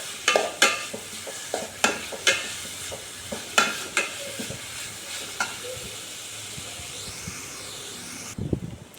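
Three sliced onions frying in a pan for an egg curry, stirred now and then: a steady sizzle with repeated scraping clicks and knocks of the spoon against the pan, ending in a short louder clatter.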